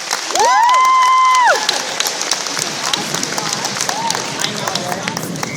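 An audience at a talk by a musician breaks into applause and cheering after a loud rising-and-falling sung tone, with the clapping continuing as a lively crowd noise.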